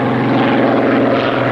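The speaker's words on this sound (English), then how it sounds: "its fabulous engine, 27 litres of supercharged Rolls-Royce V12," A 27-litre supercharged Rolls-Royce Merlin V12, the engine of the Spitfire, roars in a loud, steady, unbroken drone with a throbbing propeller-like tone and no voices over it.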